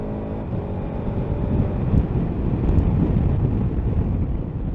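A 2022 KTM 1290 Super Adventure S motorcycle pulls hard in third gear, a steady low engine drone heard from on board with heavy wind rush across the microphone and no talk.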